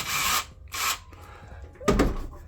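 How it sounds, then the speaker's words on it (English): A drill whirs in three short bursts, the last one lower and grinding as the bit bores holes into a wooden cigar box, with brief pauses between. "we're going to start drilling some holes"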